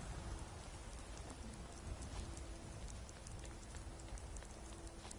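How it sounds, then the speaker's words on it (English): Dense rain droplets from a weather mod in The Elder Scrolls V: Skyrim make an even, continuous hiss and patter, faint and unbroken, with no voices. "This is another mod that I have that it's rain droplets instead of just rain lines"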